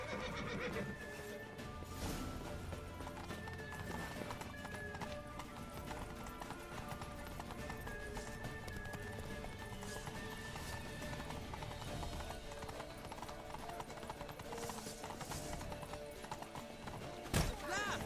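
Horse hooves clip-clop steadily and a horse whinnies during a chaotic ambush in The Witcher 3: Wild Hunt, under dense game music and effects, with a sharp neigh near the end.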